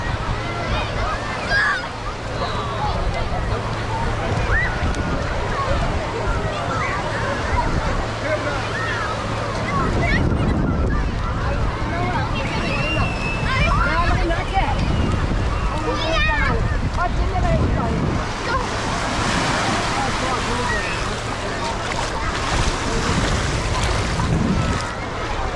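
Waves and wind at West Wittering beach in England: a continuous roar of surf and gusty wind buffeting the microphone, with a person talking over it throughout.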